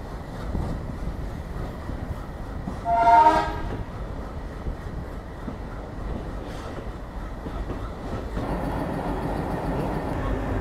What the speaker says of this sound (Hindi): और फाइनली अपना अराइवल हो रहा है Firozpur cantt junction railway station पे।